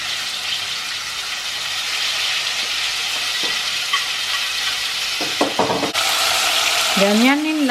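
Vegetables with soy sauce, garlic and pepper sautéing in a pan, a steady loud sizzle with occasional clinks of a utensil stirring, ending in a short rising squeal near the finish.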